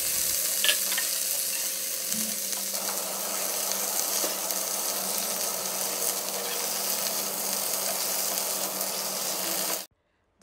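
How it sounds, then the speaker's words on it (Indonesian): Mustard greens stir-frying with shallots, garlic and bird's-eye chili in a hot pan, a steady loud sizzle and crackle running unbroken for about ten seconds, then cutting off abruptly. "jadi ini kita tumiskan bawang merah, bawang putih, sama cabai rawit"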